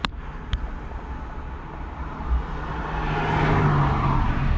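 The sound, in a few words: Chevrolet Spark EV accelerating hard up a hill, traction control off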